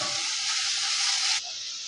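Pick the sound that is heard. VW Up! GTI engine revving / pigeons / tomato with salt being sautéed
tomato with salt being sautéed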